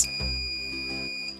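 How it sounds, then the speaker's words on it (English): A shrill electronic buzzer from a DIY five-player quiz buzzer system sounds continuously, a high steady tone held for over a second before cutting off. "this 5 candidate quiz buzzer system is working"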